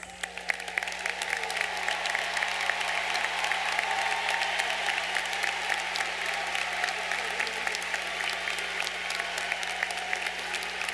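A crowd at a university commencement ceremony applauds graduates receiving Latin honors, with sustained, even clapping that fills the hall and carries on steadily without speech.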